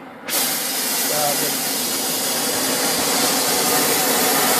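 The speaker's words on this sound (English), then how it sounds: "turn the oxygen on just a tiny bit before you turn the gas on" An oxygen and gas cutting torch being turned on, a loud steady hiss that starts abruptly and holds at constant strength throughout, with faint talk beneath it.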